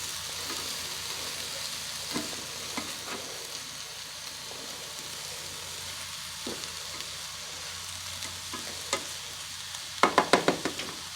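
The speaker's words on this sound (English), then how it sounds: "It's starting to sizzle a little." Chicken stir fry chow mein sizzles steadily in a hot pan, with scattered crackles and a few louder pops and scrapes near the end. No voices.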